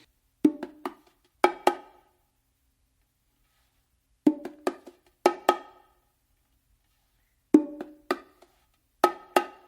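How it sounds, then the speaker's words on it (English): Martillo on bongos at real tempo: three repeated phrases of quick, crisp hand strokes, close and clear, separated by short pauses, with no talking. "Now to play that in real time."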